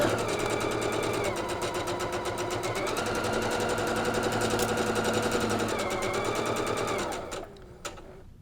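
A sewing machine stitches a quilt top in a steady, rapid mechanical rhythm that runs for about seven seconds and then stops, followed by a couple of faint clicks.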